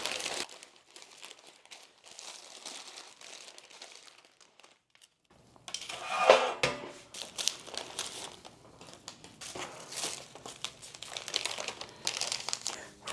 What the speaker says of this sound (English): So I'm gonna wrap it up in some plastic wrap.